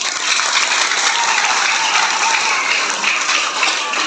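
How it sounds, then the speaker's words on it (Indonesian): Congregation clapping at a Christmas church service, a loud, continuous wash of hands from many people that stays even throughout. "sekali lagi tepuk tangan."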